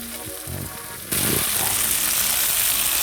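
Blackfish (tautog) coated in almond flour sautéing in a pan, a steady loud sizzle that jumps sharply louder after about a second, as if the fillet is flipped into hot fat.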